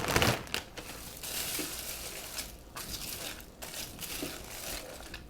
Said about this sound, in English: So I'm going to add the egg noodles.